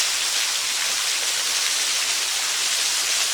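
Mineral Springs Falls in Raccoon Creek State Park pours as a waterfall, a steady broadband rush with no letup, close and even throughout.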